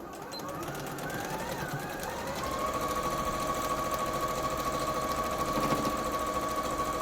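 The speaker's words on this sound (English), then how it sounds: "Now I can sew from the top all the way around like I did the other one." A sewing machine runs steadily as it stitches around the edge of a Christmas stocking. The whirring is close and continuous and grows slightly louder partway through.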